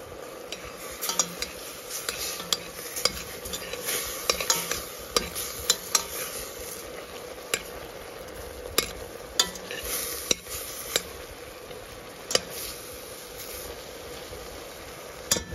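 Onion frying in melted butter crackles with a steady sizzle as a utensil scrapes and taps the pan in irregular, sharp clinks throughout, close and clear with no talking.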